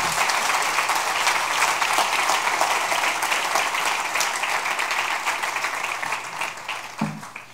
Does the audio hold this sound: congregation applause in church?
yes